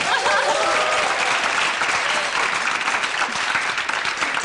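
A studio audience at a Korean television quiz show in Buyeo claps in a dense, steady burst, with a few voices briefly audible near the start.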